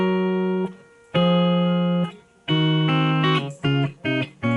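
Clean electric guitar tone through a BOSS eBand JS amp with the limiter off: notes and chords ring out with sustained tones, a pause, then a series of shorter strummed stabs toward the end, with no talking.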